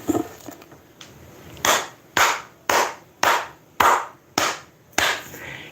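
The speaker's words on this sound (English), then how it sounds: "Claps his hands" Hands clap in a slow, evenly spaced series, about eight sharp, loud claps roughly half a second apart, close and alone.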